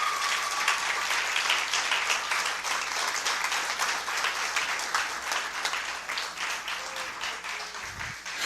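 A church congregation bursts into steady, loud applause that continues throughout, with faint voices mixed in near the end.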